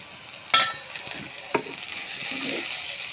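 Prawns tumble into a pan of frying potatoes with a couple of sharp clatters, followed by a steady, close hiss and sizzle of hot oil.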